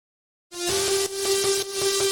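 A distorted guitar in a heavy melodic dubstep production enters abruptly after silence, holding a sustained bright tone with rhythmic chopped pulses, drenched in reverb that opens out the sound.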